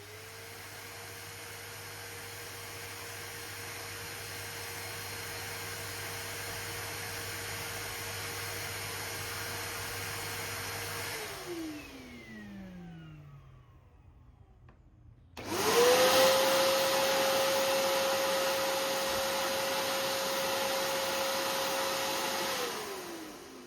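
A Nilfisk Buddy II 12 wet and dry vacuum cleaner runs with a steady, loud whine and rushing airflow. The motor winds down into near silence, then starts up again and settles back into its steady roar.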